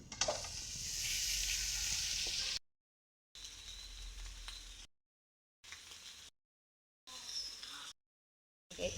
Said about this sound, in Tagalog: Ilagay na natin yung lechon.